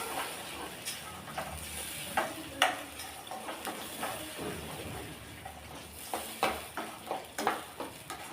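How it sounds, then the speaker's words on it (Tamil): Ground masala sautés in oil for fish curry, a soft, fairly quiet sizzle broken by repeated short scraping stirs that come faster toward the end, with no voices. "இப்போ இதை இந்த மசாலா வந்து ஒரு ரெண்டு நிமிஷத்துக்கு நல்லா அந்த எண்ணெயிலேயே வதக்கி விட்டுடலாம்"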